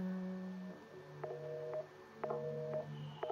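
A telephone rings inside the survival horror game Resident Evil 7, its tones repeating in short electronic bursts over a steady low game ambience, with no talking.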